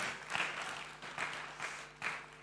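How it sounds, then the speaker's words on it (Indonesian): An audience claps in a burst of applause at an investing talk event, a dense, steady patter of many hands with a few louder swells. "Tepuk tangan teman-teman buat Melody."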